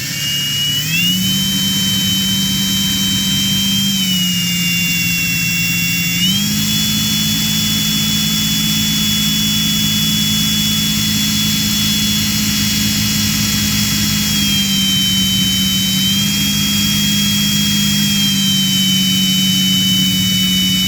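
Loud, steady high-pitched whine of a power drill running almost nonstop while edge work is done on a holster for a P99 pistol, its pitch stepping up and down slightly as the load changes, close to the mic.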